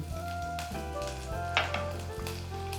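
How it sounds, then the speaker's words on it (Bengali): Chopped garlic sizzles in hot oil as a steady, close frying hiss, with a brief burst of crackle partway through and faint utensil sounds. No voice is heard. "এবারে তেলের মধ্যে প্রথমেই দিয়ে দিচ্ছি এক চামচ পরিমাণে রসুন কুচি"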